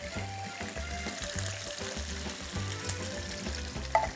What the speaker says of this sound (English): This is going to sizzle away.